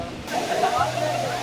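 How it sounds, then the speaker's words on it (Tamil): Courtallam main waterfall in Tenkasi, a steady broad roar of falling water, close and continuous throughout. "இதுதான் குற்றாலம் மெயின் ஃபால்ஸ். பாருங்கள் அந்த ஃபால்ஸோட சவுண்டு கேட்குதா உங்களுக்கு?"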